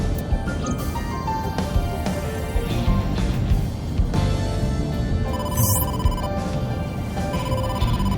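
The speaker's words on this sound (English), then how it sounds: "incoming call from the boss" A phone rings in AI: The Somnium Files, signalling an incoming call from the boss, its electronic tone repeating steadily over dense game music and ambience.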